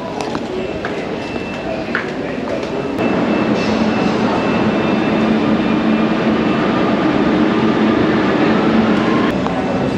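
A Barcelona metro train rumbles steadily and loudly, the roar swelling after a few seconds and then holding, with faint clanks and voices mixed in.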